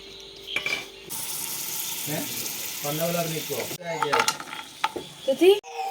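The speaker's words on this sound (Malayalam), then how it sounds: "പാൻ ചൂടാവാൻ വെച്ചിട്ടുണ്ട് അതിലേക്ക് കുറച്ച് ബട്ടർ ഇട്ട് കൊടുക്കാം" Lotus seeds and butter in a heated pan, with stirring scrapes and a steady sizzle of frying under brief clinks of utensils against cookware.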